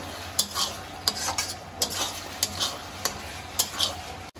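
Diced capsicum and soaked, ground dried-chili paste are stirred in a sizzling pan for chili chicken, with a steady frying hiss and sharp, regular scrapes of a spatula about twice a second.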